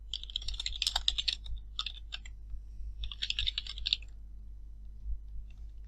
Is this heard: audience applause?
no